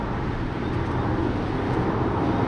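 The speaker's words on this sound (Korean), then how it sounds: "제일 크게 들리는 게 노면의 잡소리가 아주 조금 들리는 정도고요" A steady, even hush of road noise fills the cabin of a moving 2016 Toyota RAV4 hybrid with e-Four drive, a broad low rumble with faint wind and no voices.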